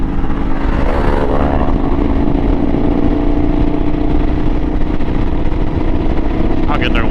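Motorcycle engines roaring steadily while riders pull wheelies, loud and continuous with wind rush, heard from a moving bike.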